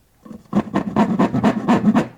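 Hand saw cutting into a wooden box, starting after a short quiet moment and then settling into quick rhythmic rasping strokes, about eight of them, close and moderately loud, with no talking.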